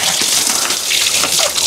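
Water gushes continuously from a spring pipe on Mt. Makulot, a loud, steady broadband rush with no pauses and no voices.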